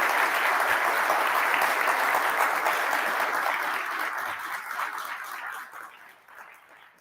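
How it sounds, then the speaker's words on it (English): Audience applause at the Ubuntu Summit 2022, a sustained dense round of clapping from a large crowd that holds steady for several seconds, then thins and fades out toward the end. "So please just give them a quick round of applause just for getting this thing going."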